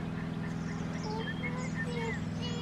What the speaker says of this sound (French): On essaie de voir si les canards ils suivent Bibou.